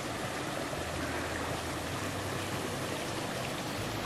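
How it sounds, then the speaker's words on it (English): A small mountain stream on a rocky wilderness trail runs with a steady, even rushing wash, faint and continuous, with no voices. "we're crossing another little stream"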